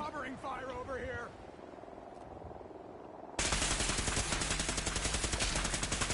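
Gunfire in the video game Fallout 4 on PS5, starting with a voice and quieter background action, then bursting into loud, continuous rapid automatic fire for the last few seconds.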